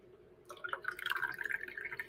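Sparkling water is poured into a glass to top off a mocktail, a close trickling fizz that begins after a short quiet moment and keeps bubbling steadily to the end.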